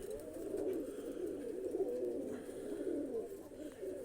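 A large red China pigeon coos continuously, a deep rolling murmur that holds steady at close range for several seconds without pause.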